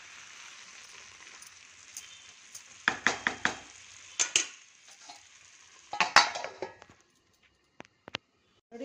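A spoon stirs and scrapes a hyacinth bean dish in a pan, producing several bursts of clattering, scraping strokes between quiet gentle sizzling, close by and with no voices.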